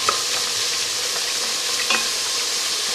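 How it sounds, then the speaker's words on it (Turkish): Chopped onions and carrots fry in a pan for Turkish maklube, giving a loud, steady, close sizzle with a couple of faint scraping stirs and no voices. "Soğanlar ve havuçları kavuruyorum."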